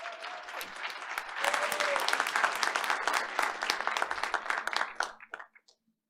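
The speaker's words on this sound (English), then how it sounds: "Audience, please give her one more round of applause." A school board meeting audience applauds a staff member being honored, dense clapping building for several seconds and then thinning out into a few scattered claps before stopping.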